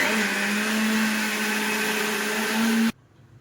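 A mixer grinder whirs loudly and steadily as it grinds soaked lentils, its high motor whine cutting off abruptly near the end.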